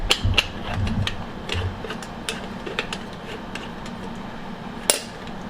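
Metal parts of a stovetop coffee maker screwed together by hand, a run of small scraping clinks and ratcheting ticks, close and fairly quiet, with one sharper knock near the end and no talking.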